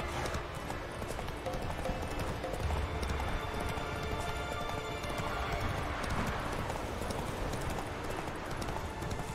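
Roach, the horse in The Witcher 3 video game, gallops steadily with rhythmic clip-clop hoofbeats over a dense bed of game sound, with a brief whinny mixed in.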